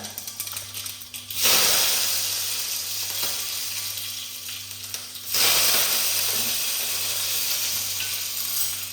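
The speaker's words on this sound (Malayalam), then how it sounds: "കടുക് പൊട്ടി വരുമ്പോൾ തന്നെ കരിയേപ്പില ഇട്ട് കൊടുക്കാം." Curry leaves drop into hot coconut oil with popping mustard seeds, and a loud close hiss swells abruptly twice, settling into a sustained sizzle with faint crackling and no talk.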